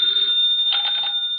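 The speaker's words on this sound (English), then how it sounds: "the ringing of that phone bell means mystery" An old telephone bell rings in two short bursts, loud, bright and close, with no talk over it.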